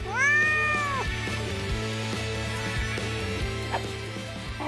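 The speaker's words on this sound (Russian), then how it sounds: "Это черная кошка!" A black cat gives a loud, drawn-out meow right at the start, followed by a busy cartoonish background of music and effects with no speech.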